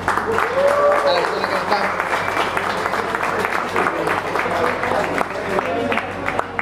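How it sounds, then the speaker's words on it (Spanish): A crowd at a Chilean home-brewing contest awards ceremony applauds the first-stage winners with steady, dense clapping, while someone speaks over the applause. "un aplauso para los tres"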